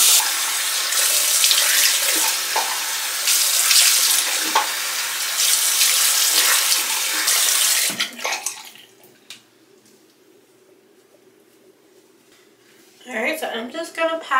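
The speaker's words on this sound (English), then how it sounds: "now it is time to rinse my face off" Water gushes steadily from a bathroom tap into a sink for several seconds during a face rinse, loud and close, then cuts off to near quiet before splashing and handling noises return.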